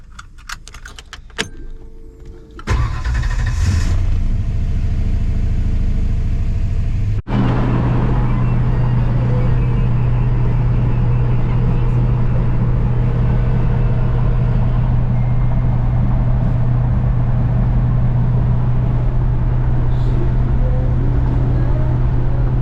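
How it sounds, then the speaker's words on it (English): A 1963 Ford Fairlane drives along with its engine running in a steady low drone, preceded by a few seconds of jangling keys and handling noise, then a continuous interior hum with no talking. "Car's running okay so far."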